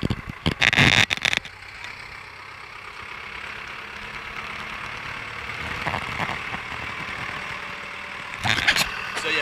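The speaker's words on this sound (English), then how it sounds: "I'm about to get run over by a tractor" Tractor driving on a beach at Railay at low tide, its engine a steady mid-distance rumble under wind, with louder bursts and clatter near the start and end.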